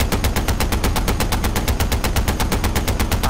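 Rapid automatic gunfire in the video game Far Cry 4, aimed at a car, hammers out as a loud, steady burst of evenly spaced shots lasting several seconds with no pauses and no talk.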